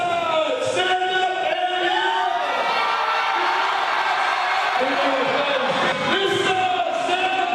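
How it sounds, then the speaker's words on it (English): High school students at a pep rally cheer and shout together in a loud, sustained crowd roar, with whoops and chanted voices rising and falling throughout. "yesterday they had a pep rally and did a pretty special cheer for High Five Sports"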